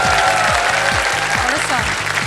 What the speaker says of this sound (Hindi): ताली बजाएं इनके लिए।